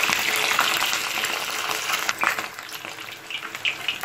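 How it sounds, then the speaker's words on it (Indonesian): Fish sizzles steadily in hot frying oil, a dense continuous crackle and spatter with small popping bursts, close and fairly loud with no talking. "Kita goreng sampai matang dulu"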